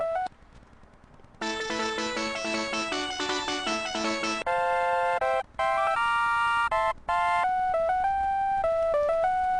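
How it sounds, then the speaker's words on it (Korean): A ringtone from an old folder-style flip phone plays a bright, electronic melody of beeping tones. It runs loudly for several seconds on its own, with brief gaps between phrases. "옛날 폴더폰 그 벨소리를 듣고 그대로 저기 진행해주면 됩니다."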